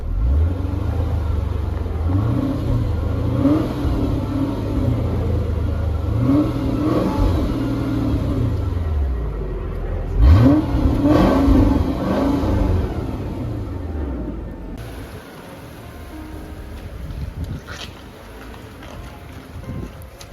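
A 2005 Mercedes CL500 (W215) accelerates on a road test, its engine rising in pitch through several gear pulls with steady wind and road noise throughout, then easing to a quieter cruise near the end.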